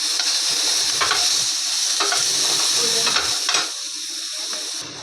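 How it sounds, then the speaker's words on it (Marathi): Coconut pieces roasting in a pan with chilli and garlic give a loud, continuous sizzle and hiss, with stirring scrapes that ease off toward the end. "खोबरं थोडंसं भाजून घेते"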